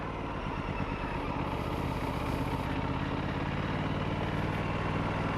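Aprilia RS457 motorcycle engine running on a road test, a steady close engine drone with a pulsing low-end rhythm early on, rising slightly in pitch as it rides on.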